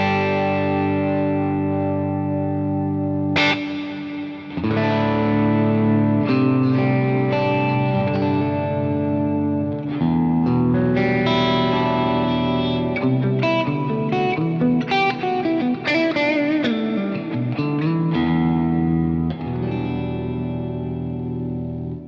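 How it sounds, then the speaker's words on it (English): An electric guitar played through a reverb plugin turned up high rings with sustained, distorted notes and chords that wash into a long, echoing tail, loud and continuous, with no talking. "So let me just demonstrate by turning up the reverb."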